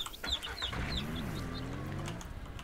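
Chickens cluck and chirp in the farming video game Ranch Simulator, several birds calling in short bursts over a steady low background hum, with no talking.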